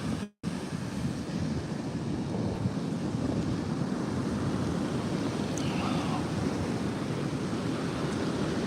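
Ocean surf washing onto a beach during agate hunting, a steady loud roar of breaking waves with wind buffeting the microphone, continuous and close throughout.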